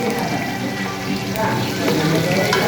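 Onions and green chillies frying in ghee in a pan for vegetable rice, a steady, close sizzle with stirring throughout.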